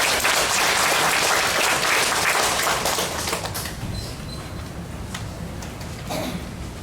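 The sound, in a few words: welcoming applause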